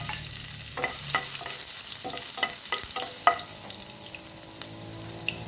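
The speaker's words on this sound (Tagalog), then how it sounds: "Gisa na igisa ko na yung mga lamas." Spices sautéing in hot oil in a pan, a soft steady sizzle broken by repeated sharp scrapes and taps of a spatula stirring, close and alone without talk.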